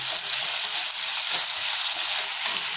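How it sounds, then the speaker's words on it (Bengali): Chopped onions frying in hot oil in a wok, a steady, close, loud hiss of sizzling with no break and no talking. "এটাকে আমরা প্রায় 2 মিনিট ধরে ভালোভাবে ভাজা করে নেব।"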